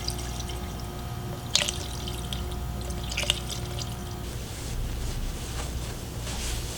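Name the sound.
pouring radiator fluid into car radiator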